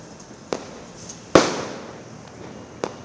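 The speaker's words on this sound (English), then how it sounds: "Fireworks adorn the sky during Diwali, the auspicious festival of lights." Diwali fireworks burst outdoors in three sharp cracks, with the loud middle blast trailing into a fading crackle and the other two fainter and farther off.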